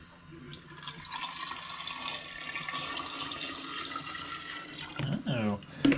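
A brine of water, vinegar and sugar is poured for pickled eggs, a soft, steady liquid pour running for several seconds, with faint kitchen handling sounds toward the end.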